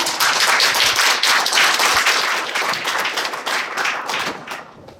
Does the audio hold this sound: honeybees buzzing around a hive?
no